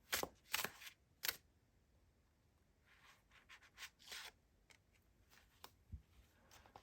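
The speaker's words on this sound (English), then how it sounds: "I'm going to shuffle it one more time." A few sharp papery riffles and bursts of tarot cards flicking together, then softer shuffling rustles, close and fairly quiet.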